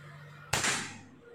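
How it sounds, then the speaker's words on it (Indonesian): Single sharp crack of an FX Impact air rifle firing, close and loud, with a brief trailing echo that fades within a second, no talking. "Kita akan mencoba tembak ulang kembali, yaitu lubangnya peluru ya Mas Bos"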